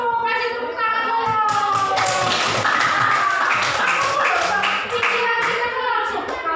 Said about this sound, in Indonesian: itu kasih tepuk tangan dulu